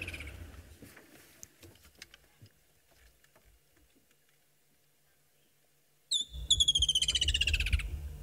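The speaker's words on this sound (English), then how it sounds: "That's the woodland kingfisher. That's quite a lovely song." A woodland kingfisher on safari gives its song: after a long, near-quiet stretch with faint rustles, a loud, close, sharp call leads into a rapid descending trill.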